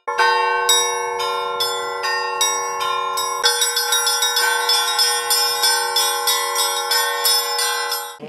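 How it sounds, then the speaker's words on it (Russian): Church bells at the Church of Saints Boris and Gleb in the village of Enino ring out loud and close during a feast-day service, steady rhythmic peals layered over a sustained ringing tone, with no voices. "Колокольный звон успокаивает, создает праздничное настроение."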